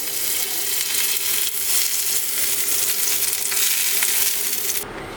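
Sandwich browning in butter in a hot pan, giving a steady, close sizzle and crackle of frying that runs unbroken for several seconds and cuts off abruptly at the end.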